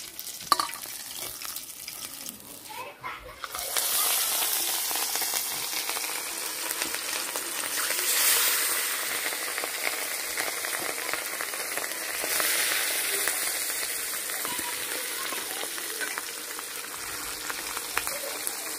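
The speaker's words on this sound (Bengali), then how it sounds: "বাকি মাছগুলি আবার ভাজা নিতেছে।" Pieces of katla fish fry in hot oil, giving a loud, steady sizzle with crackling spatter that starts after a quieter moment and carries on without a break.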